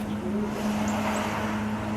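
A car engine runs at a steady idle-like hum, close and continuous, with no one speaking.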